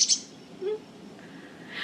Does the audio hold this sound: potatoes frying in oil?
no